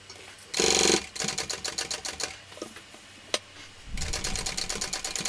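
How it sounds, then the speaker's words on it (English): A sewing machine stitching the bottom seam of a shoulder bag lining that also closes a slip pocket, giving fast rapid-fire needle clatter in several close bursts broken by brief pauses and a single sharp click. "This bottom stitching here is also closing the seam of our pocket."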